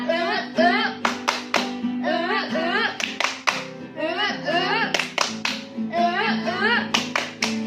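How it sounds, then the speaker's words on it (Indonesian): Children in a church kids' worship service clap the rhythmic 'tepuk sukacita' joy clap, crisp hand-clap bursts in a steady patterned rhythm under continuous singing and chanting voices. "Tepuk sukacita. Joy, joy, joy, joy, joy. Sukacita, sukacita, sukacita."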